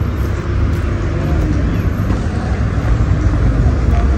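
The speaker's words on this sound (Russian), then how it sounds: "Ну, конечно, машины шумят," Loud, steady road traffic rumbles throughout as cars pass nearby during an outdoor walk, a dense continuous wash of engine and tire noise with no clear gaps.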